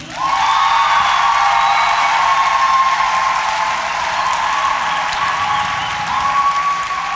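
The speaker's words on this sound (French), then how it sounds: "Si tu as aimé, applaudis." Sustained audience applause with some cheering and whoops at a live comedy show, a loud, dense wash of clapping from a full hall lasting several seconds and easing slightly toward the end, with no speech.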